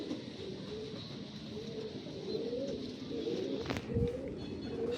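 Racing pigeons cooing inside a loft in Pampanga, soft repeated low coos layered over one another at close range, with a short sharp clatter near the end.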